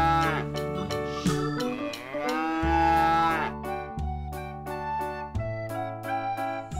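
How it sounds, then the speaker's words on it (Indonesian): A mother cow moos loudly alongside her calf, several long drawn-out calls and shorter lows following one another close to the listener, with no talk. "Wah, ini ada indukan sapi juga, sama ada anakannya juga teman-teman."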